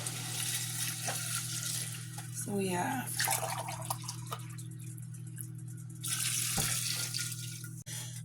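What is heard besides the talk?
water being poured into a cooking pot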